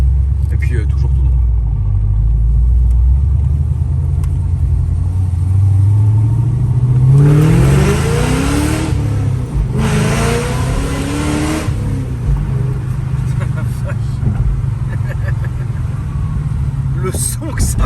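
A Ford Mustang with a stage 2 engine tune rumbles while driving and revs up hard twice in the middle, heard from inside the car with steady road noise and people talking.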